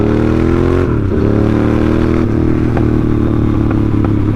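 A motorcycle on a ride is close and loud, its engine droning steadily with a pitch shift as it changes speed and light clatter over the top.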